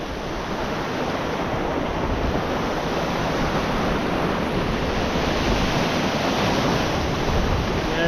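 Steady ocean surf washes along a deserted island shore as the tide rises, a continuous broadband roar with light wind noise on the microphone and no voices.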